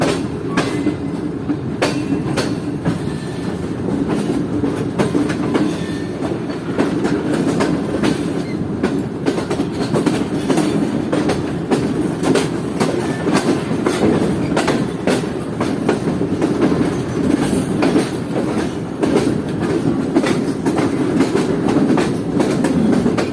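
Leaving Chatta station, the Sir Syed Express crosses from the loop line onto the main line, wheels clattering over rail joints and points in a steady, close rhythm with repeated sharper knocks throughout.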